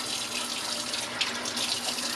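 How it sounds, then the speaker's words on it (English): Tap water runs steadily at about 20 degrees into a sink to rinse developing photographic film, a continuous close, even hiss and splash with no pauses. "I'm gonna start pre-running the water at 20 degrees, just not to shock the film into cold Canadian water."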